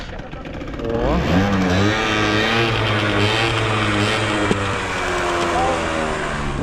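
A 2021 Tekken sport scooter engine starts and revs, its rising and falling tones rolling loud and close over steady running, while people talk nearby.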